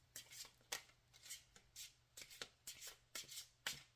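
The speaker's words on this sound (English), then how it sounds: "I've been working on this shuffling technique" Deck of cards for the Onirim card game being shuffled, a quiet run of crisp riffling bursts in quick succession, close by with no voices.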